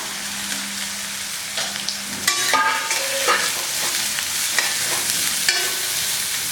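Shallots and coconut pieces frying in a pan make a steady sizzle, close and fairly loud, with repeated spatula scrapes and clinks against the metal over the frying.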